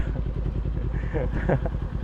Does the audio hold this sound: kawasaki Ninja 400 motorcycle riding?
yes